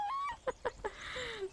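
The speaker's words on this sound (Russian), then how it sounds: "Курочки, курочки!" Chickens clucking in the video game Survival: Fountain of Youth, a few short clucks and squawks in quick succession, close and clear, with no talk over them.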